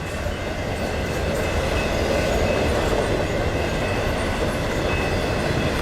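A Union Pacific double-stack freight train rolls past in Iowa, a steady, close, loud rumble and rattle of wheels and cars that holds without a break.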